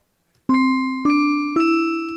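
A Big Band Bell VST sample in Reason, triggered from a Max 8 musical typing setup: three loud, clean bell strikes about half a second apart, each ringing on and slowly fading, alone after a short silence.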